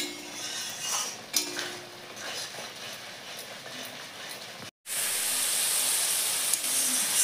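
Spice paste with ground cumin sizzles and hisses in a hot pan, a steady frying crackle that grows louder and brighter after a brief pause, with faint utensil clinks near the start.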